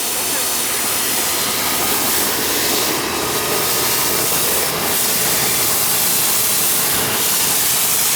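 A garden hose sprays water through the condenser coil of an older home AC unit, a loud, steady rushing hiss close by that never lets up.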